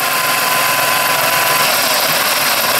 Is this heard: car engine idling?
yes